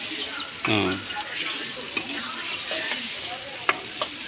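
Spices for a home-style chicken fry sizzle in a pan while a spoon stirs and scrapes through them. A voice cuts in briefly and there are a few sharp clinks.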